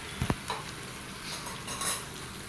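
Indian gooseberries (amla) frying in oil for pickle, with a soft steady sizzle and a couple of sharp metal spoon or pan clinks near the start, close and moderately quiet with no talking.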